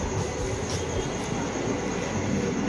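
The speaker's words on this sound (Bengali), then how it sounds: "ট্রেন ঢুকে গেছে" A train pulls into a village station in Bengal with a steady, loud rumble of wagons rolling along the rails and a faint wheel screech, continuous throughout with no talking.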